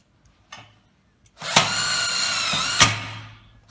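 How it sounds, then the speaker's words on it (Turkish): An Einhell cordless impact driver sinks a screw into 1 mm sheet metal: a loud, close, steady whirring buzz runs for about two seconds, opening and closing with sharp clacks before it winds down. "1 milim saca vida atıyorum."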